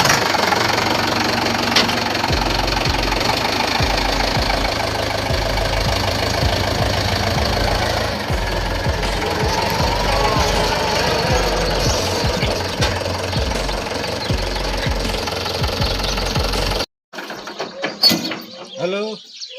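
A tractor engine runs close and loud in a village, a rough steady knocking chug that continues for most of the stretch before cutting out abruptly near the end, with faint voices after.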